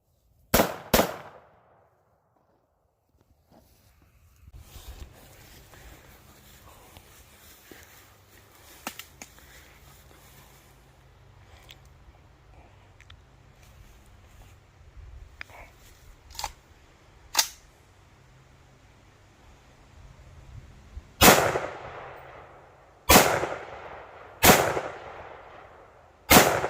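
Black Rain ORDN AR15 rifle firing, a sharp shot at the start, then a quiet stretch with faint shuffling, and a volley of four loud, widely spaced cracks near the end.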